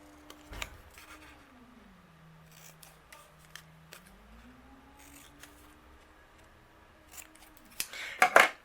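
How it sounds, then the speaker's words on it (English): Scissors snip a few times, fishtailing the ends of a paper piece, with short sharp cuts and a crisp rustle of paper near the end, over a faint low hum. "I'm going to fishtail both the ends, just using my scissors"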